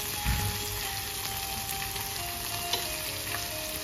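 Bombay duck fish fries in a pan over a gas flame with a soft, constant sizzle and hiss, a couple of faint knocks as the soft fish is turned, and no one talking.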